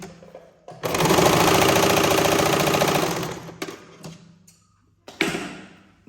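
Sewing machine stitching a fabric neckline runs in one loud, steady burst for about two seconds, then stops, followed by a few faint clicks and a short final whir.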